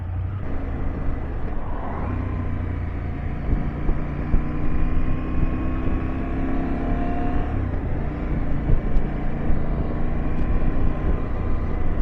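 KTM 790 Adventure motorcycle fitted with a Remus exhaust pipe, a steady loud engine drone held at a constant pitch for several seconds, with wind noise over the microphone and no talking.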